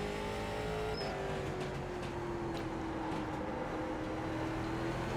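Simulated race cars in a NASCAR iRacing Late Model Series race, a steady engine whine with a rising and falling pitch and a constant roar of several cars at moderate level.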